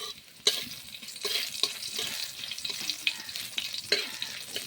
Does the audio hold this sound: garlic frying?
yes